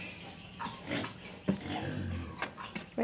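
Pigs at feeding time give a series of close, irregular grunts and snorts in short bursts, some louder than others.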